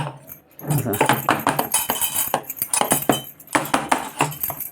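A metal pot holding rice grits and red pumpkin batter is covered with its lid, giving a busy run of close metallic clinks, taps and scrapes.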